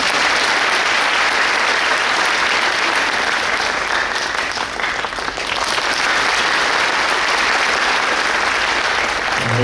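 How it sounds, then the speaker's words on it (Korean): Sustained, dense applause from a large audience fills a high school entrance ceremony, steady and loud for about ten seconds without a break. "박수가 필요합니다."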